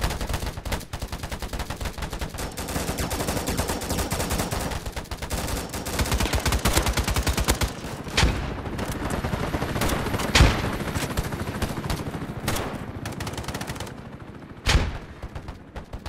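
Dense, rapid gunfire including sniper rifle shots in the shooter game Polygon, a continuous rattle of close shots for most of the stretch, thinning later into a few loud isolated cracks.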